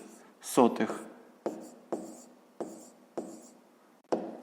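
Pen or chalk taps and short strokes write a mixed number by hand, about six distinct close, crisp marks spaced evenly apart, preceded by a brief voiced sound.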